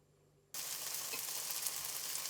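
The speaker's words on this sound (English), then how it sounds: "we're going to fry these onions off for about 10 minutes" Onions frying on a plug-in hob for a lamb dish: a sharp, steady, loud sizzle starts abruptly after a near-silent half second and keeps crackling evenly to the end.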